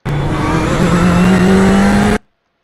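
A race car accelerating out of a turn at Virginia International Raceway, a loud, close engine whose pitch climbs steadily for about two seconds before cutting off abruptly.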